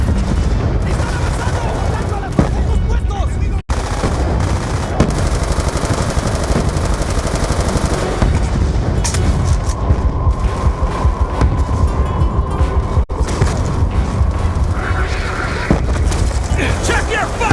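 Dense gunfire and booming explosions fill a Black Ops 2 rooftop firefight on Veteran difficulty, loud and continuous throughout, with shouted voices mixed in.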